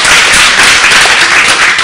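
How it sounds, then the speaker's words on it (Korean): Loud, close applause from a Korean church congregation during a daytime revival service at Daegu Sujeong Church, many hands clapping in a dense, continuous burst with no speech over it. "박수 쳐주세요"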